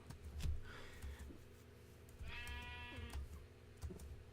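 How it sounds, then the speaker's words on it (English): A Minecraft sheep bleats clearly in a single drawn-out, wavering call, set against a low background hum and a few soft thumps. "I don't know why that sheep scared me."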